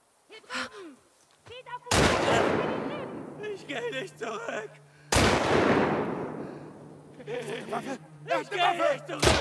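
Two loud, sharp gunshots in The Last of Us Part II, each with a long decaying echo, spaced a few seconds apart amid tense voices talking before and after.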